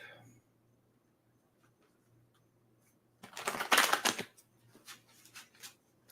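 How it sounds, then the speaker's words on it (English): A deck of angel oracle cards being shuffled: after quiet, a dense burst of riffling rustle lasting about a second, followed by several shorter separate card flicks and slaps, close and alone. "Gonna get them shuffled up"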